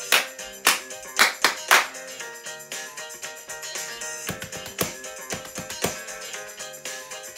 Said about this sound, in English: Let's do a crocodile clap all together.